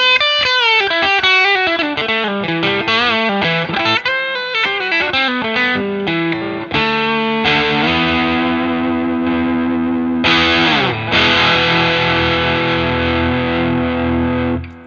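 A Schecter C-1 Exotic Spalted electric guitar runs through distortion and effects, playing a melodic line of picked notes and then sustained chords, loud and up close with no voices.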